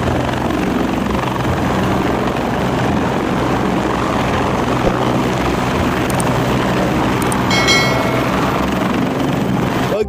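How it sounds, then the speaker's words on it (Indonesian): A police helicopter roars loudly and continuously nearby, its rotor throb steady and filling the whole stretch. "ada pesawat helikopter polisi Indonesia"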